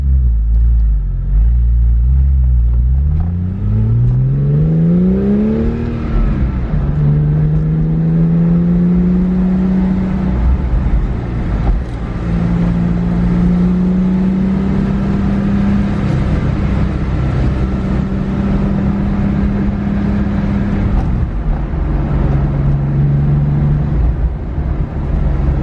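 A Porsche 997 climbs a winding uphill road toward a hillside winery on Mount Veeder in Napa, its engine rising and falling in pitch through gear changes, with a steady close rumble and no talk.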